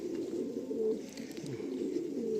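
Madrasi pigeon cooing softly and repeatedly, a low rolling coo close by against a quiet background.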